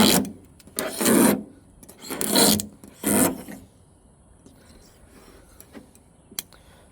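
Sandpaper rasping across primer on the body of a 1966 Baja Beetle, three loud back-and-forth sanding bursts close up, then quieter scattered scraping and a small tap.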